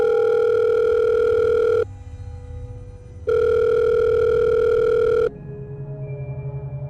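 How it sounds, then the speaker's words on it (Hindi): A mobile phone rings from inside a pocket, sounding as a loud electronic tone in two long bursts separated by short pauses, followed by a softer, lower tone, with no talking. "उस वक्त तक जब तक उसकी पॉकेट में रखा फ़ोन नहीं बजा"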